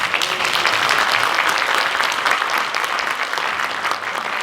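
Sustained audience applause filling the hall at a Christian school gathering, steady and dense throughout as a professor stands to be recognised, with no talk over it.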